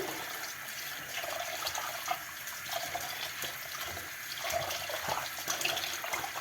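Chicken wings rinsed under a running kitchen tap, a steady, close rush of splashing water that stays fairly loud throughout with no talking.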